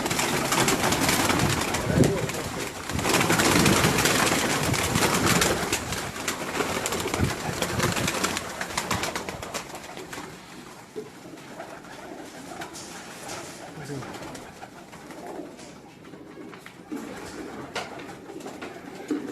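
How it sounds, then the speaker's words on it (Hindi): Several pigeons coo in a loft in Gujranwala, their soft throaty calls overlapping continuously at close range amid background rustling. "डिफरेंट कबूतर यहाँ पे इकट्ठे हैं"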